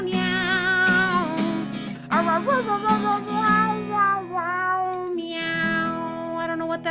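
A human voice imitates a cat at a Sunday celebration service, giving several drawn-out, sliding meows in a row. The meows are loud and close, over sustained background tones.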